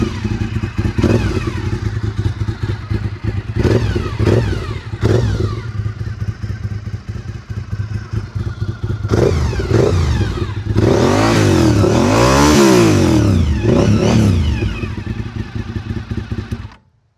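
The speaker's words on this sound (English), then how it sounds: "That V-twin, that's just the epic, iconic Honda RC51 sound." A Honda RC51 V-twin motorcycle engine is revved repeatedly: short sharp blips and clattering idle, then a long loud climb and fall in revs, close by with no voices.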